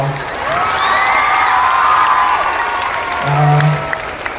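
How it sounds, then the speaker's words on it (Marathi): Live audience applauding and cheering at a crowded show, continuous clapping and crowd noise with a few shouts over it. "टाळ्या वाजवा"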